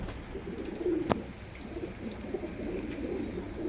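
Teddy pigeons, a pure-bred flock, coo in low, soft throaty murmurs over steady background noise, with one brief sharp knock near the start.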